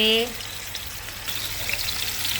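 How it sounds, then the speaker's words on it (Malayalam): Food frying in hot oil in a pan while a fish dish is cooked, a steady soft sizzle running throughout after a brief voice at the start. "ഇവന് ഇനി എണ്ണയിൽ കിടന്ന് നല്ലപോലെ ഒന്ന് ഫ്രൈ ആവട്ടെ"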